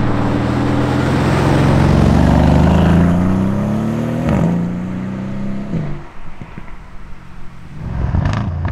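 A Mercedes-AMG C63s safety car revs its engine loudly and close by, the note climbing in a long rising sweep and then dropping away, followed by several sharper blips of the throttle, with no voices over it.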